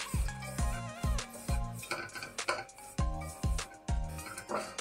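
A metal spoon stirs dry fruits and coconut powder in a pan for dry semiya, with a run of sharp, rhythmic clinks and scrapes against the pan, close and fairly loud, with no talking.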